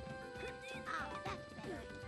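Duck-like quacking from birds in the Disney's Tarzan video game, several bright, warbling quacks in quick succession over a continuous musical game soundtrack.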